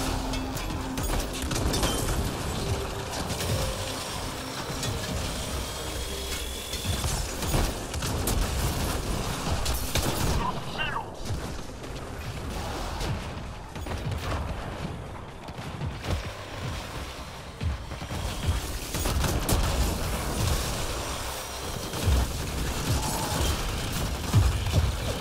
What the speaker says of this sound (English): Let that missile barrage pass.